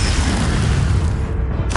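An Expelliarmus spell is cast in the Hogwarts Legacy video game: a loud, dense booming burst with rumbling low end that fades briefly, then snaps back with a sharp crackling hit near the end.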